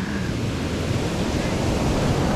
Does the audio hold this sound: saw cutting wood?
no